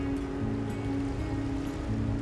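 Sea waves rolling around a small, narrow outrigger boat used by Dumagat fish hunters in the Philippines, a continuous close rushing wash of water with a low rumble underneath.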